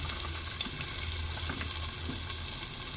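Garlic and ginger sauté in hot oil for chicken tinola, a dense, close, continuous sizzle with faint stirring clicks and scrapes throughout.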